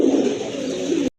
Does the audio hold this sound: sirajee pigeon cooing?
yes